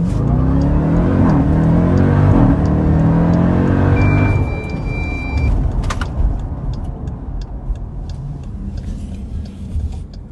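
A Jeep Trackhawk launches hard from a standstill, its engine roaring loud and close with rising revs and gear changes over the first few seconds, then settling into a lower steady drone.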